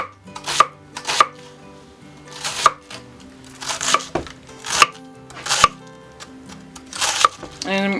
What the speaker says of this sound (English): So we're just going to continue to cut up our cabbage.